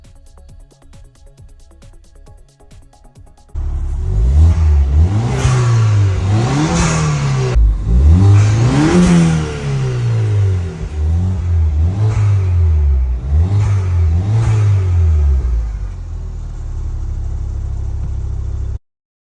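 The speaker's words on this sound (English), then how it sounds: "I did give it a couple of revs because that intake just sounds so good on these little Fiesta STs" A Ford Fiesta ST, warmed up after reassembly, revs repeatedly from idle. Its intake note climbs and falls in rhythmic bursts, close and loud, with no voices.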